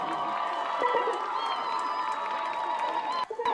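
A distant stadium crowd at a high school football game cheers and claps for the cheer team, a broad, moderately faint roar that holds steady, then briefly dips near the end.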